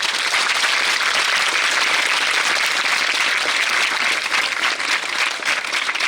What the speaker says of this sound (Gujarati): આમાં તો તાળીઓ છે